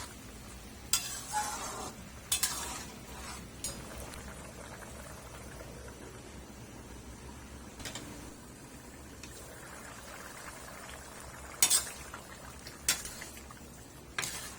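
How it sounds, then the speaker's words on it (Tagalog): Menudo meat simmering and being stirred in a pot, with a soft bubbling sizzle underneath and several sharp clinks and scrapes of a utensil against the pot at irregular intervals. "Make sure lang na palagian natin itong haluin para pantay ang pagkakaluto ng ating karne."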